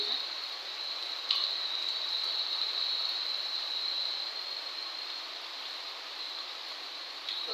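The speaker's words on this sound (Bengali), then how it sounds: "এখন কিন্তু একটু জোরে জোরে বৃষ্টি পড়তেছে" Heavy rain falls steadily outside a village house, giving a continuous hiss with a few soft knocks and no talk.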